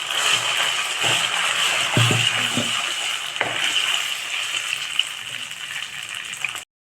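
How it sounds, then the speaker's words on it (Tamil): Ground red rice flour dough stirred in oil in a pan, a steady sizzle and hiss with a few scraping thumps of the spoon, close and fairly loud, then abrupt silence. "இந்த மாதிரி ஆயில் விட்டு இந்த அரைச்சதை போட்டு நல்லா கிளறிக்கணும்"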